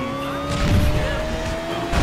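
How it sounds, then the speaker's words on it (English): Cars revving in a drag race in GTA IV, engines holding steady high-pitched whines with a rising tone, plus rough low rumble and a brief surge of road noise, close and loud, without talk. "Drag race"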